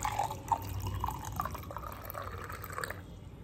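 Warm water pours into a container while juice is being made, a steady liquid trickle with drip-like splashes running for about three seconds at moderate, close range, then tapering off.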